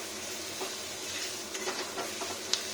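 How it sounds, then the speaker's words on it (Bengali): Shredded cabbage and potato fry with whole spices and salt in a pan, giving a soft, steady sizzle broken by a few light stirring scrapes and taps near the end. "দেখুন এবার কি সুন্দর ভাজা ভাজা যাবে"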